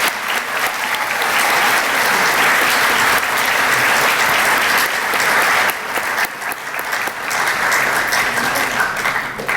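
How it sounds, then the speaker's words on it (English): Sustained applause from an audience at a school district distinguished alumni awards assembly, loud and steady throughout with a dense wash of clapping and no speech over it. "Please give these individuals a round of applause."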